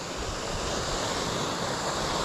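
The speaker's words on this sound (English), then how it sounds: "show people how to get to Davidson's Linn waterfall here" Davidson's Linn waterfall pours in a steady, dense rush of falling water, constant and unbroken, heard from nearby with no voices.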